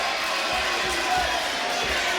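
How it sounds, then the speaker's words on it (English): Wrestling crowd roaring at a pro wrestling event, a dense, continuous wall of cheering and shouting from a large audience with muffled thumps underneath. "This crowd is going crazy right now."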